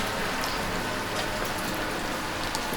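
Steady, dense rain hisses evenly and without pause, a continuous wash of falling drops with no voices.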